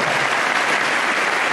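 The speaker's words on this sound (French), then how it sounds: "un grand applaudissement pour ces frères et sœurs." A church congregation claps together in steady, dense applause, loud and close, filling the whole moment without speech.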